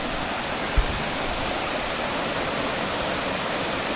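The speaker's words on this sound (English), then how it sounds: "The sound of rushing water echoed throughout the forest." A large forest waterfall roars as steady, broadband rushing water, loud and continuous throughout with no pauses or voices.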